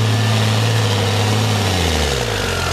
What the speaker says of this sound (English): here is Rick Romanini back out with that big tractor-tired, diesel-powered Johnny Law mud bogger